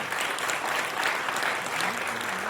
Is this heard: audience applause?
yes